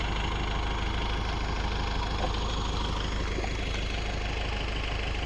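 A Kubota L50 tractor engine idles steadily, a constant low rumbling drone with a faint mechanical knock throughout, on a muddy field.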